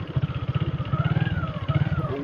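An old motorbike engine idles on a rough, steep off-road track, a close, loud and steady rapid pulsing thump with a faint higher whine rising and falling over it.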